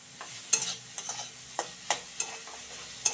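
Chowmein with potatoes and vegetables is stir-fried in a pan, with a soft sizzle under a run of sharp spatula scrapes and clinks that come in irregular bursts, close and fairly loud, with no one speaking.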